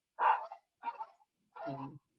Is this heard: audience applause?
no